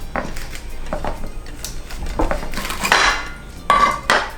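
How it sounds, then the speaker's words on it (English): Homemade Mexican tortilla dough being pressed in a tortilla press, with close, loud knocks and clacks of the press and handling noises, a sharp metallic clank near the end. "pressing a little more"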